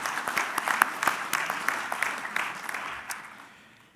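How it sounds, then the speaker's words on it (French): Audience applause at a French farmers' union general assembly, a brief burst of clapping that fades steadily away over a few seconds. "Je pense qu'on peut l'applaudir pour le travail réalisé pendant 5 ans"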